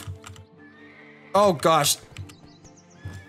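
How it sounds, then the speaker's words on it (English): Horse in the mobile game Black Desert Mobile gives two loud whinnies close by during a taming attempt, with soft hoof clops and a faint bird chirp in the background; someone speaks briefly. "Now let's go ahead and tame the horse."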